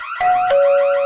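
A home security alarm in a radio advert sounds a loud two-tone electronic chime, one pitch then a slightly lower one, sustained and alone.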